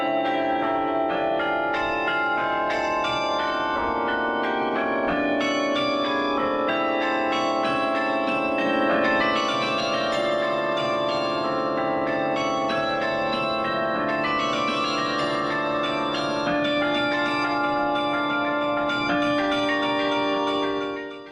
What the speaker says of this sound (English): it's the bells in the tower